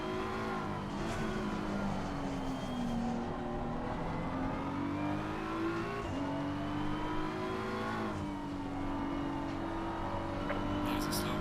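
Race car engines from the Assetto Corsa Competizione racing game drone steadily with rising and falling revs, held at a moderate, continuous level throughout with no pauses.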